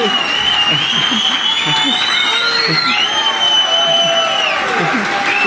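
A large congregation applauds and cheers at a Sabbath service at The Great House of Yahweh in Abilene, a loud, dense wash of clapping with whoops throughout while a voice speaks over it.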